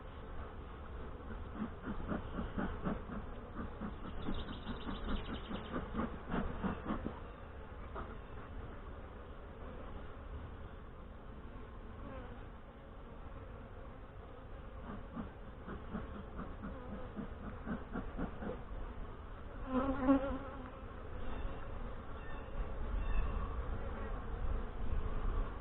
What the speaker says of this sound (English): Well, they're getting a little buzzy.